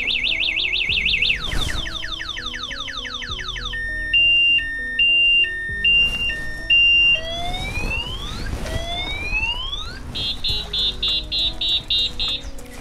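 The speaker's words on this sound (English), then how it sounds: "This is the anti-theft alarm." A loud electronic anti-theft alarm on an Ampere Magnus Pro electric scooter cycling through several patterns: rapid warbling chirps, a pulsing two-tone beep, rising whoops, then fast repeated beeps, all close and piercing.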